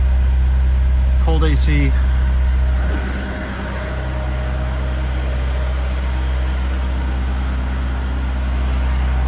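A 2007 Honda S2000 idles after a cold start with a steady low engine drone throughout, while a person speaks briefly near the start.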